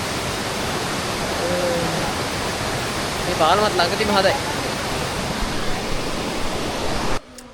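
Bambarakiri Ella waterfall at Riverston in Sri Lanka roars as a steady, loud rush of falling water throughout, with a person talking briefly over it partway through.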